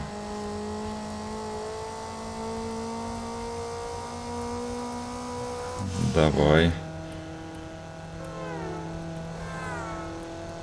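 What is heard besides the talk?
car engine straining in video game Need for Speed Underground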